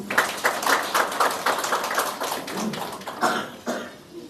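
An audience at a journalism graduation ceremony claps in a loose, moderately loud burst that thins toward the end, with no voices.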